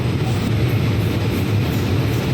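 Thai rapid train 102 on the Chiang Mai–Bangkok line passing close by, a loud, steady low rumble of wheels and engine with no pause.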